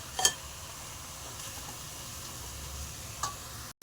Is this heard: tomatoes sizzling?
yes